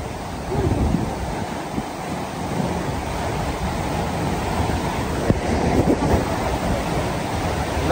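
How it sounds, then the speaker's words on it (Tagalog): Loud, continuous rushing of strong waves and churning water, a dense roar with occasional splashes and wind noise. "Malakas yung tubig."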